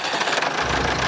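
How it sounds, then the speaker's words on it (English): A farm tractor engine runs on a North Texas property damaged by a tornado, a loud, steady rumbling drone that holds even for about a second, with no speech. "Hopping on their tractor"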